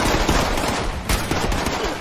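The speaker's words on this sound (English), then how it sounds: "I have a bunch of super mutants shooting at me." Super mutants in the Fallout 76 video game firing guns in rapid, continuous bursts of gunfire, loud and close, with no talking.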